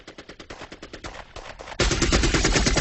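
Rapid automatic gunfire during the Waco siege, rattling bursts of closely spaced shots at first, then a dense, louder barrage of continuous firing near the end.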